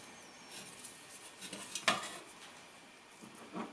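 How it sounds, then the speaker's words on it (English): Ribs set into a Ninja Foodi basket: faint handling noises and one sharp metallic clank near the middle, in an otherwise quiet kitchen. "place the ribs into the basket."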